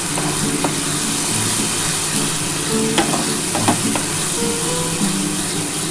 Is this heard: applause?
no